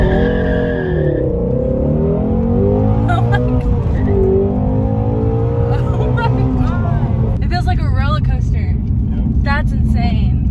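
A 2016 Ford Shelby GT350 accelerates hard, its engine note climbing through rising sweeps and gear changes, loud and close from inside the car, with voices talking and reacting over it.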